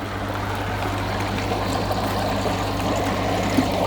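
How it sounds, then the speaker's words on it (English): A pond water pump runs steadily at a waterfall and koi pond setup, water pouring and trickling in a continuous broadband wash with a low mechanical hum underneath, no voices. "and turn off our water pump."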